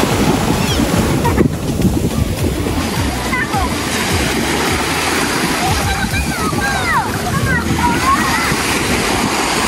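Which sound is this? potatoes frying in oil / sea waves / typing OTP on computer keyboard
sea waves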